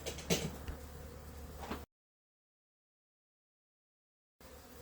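Honey bees buzz around transparent hives in a low, steady hum, broken by a long stretch of total silence before the buzzing returns.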